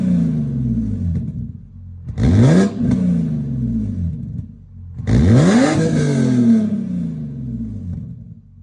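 BMW M3 E46 engine and exhaust revving hard in two bursts, each rising sharply then falling back to a steady rumbling idle, loud and close with no talk.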